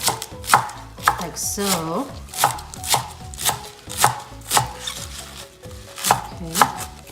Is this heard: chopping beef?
yes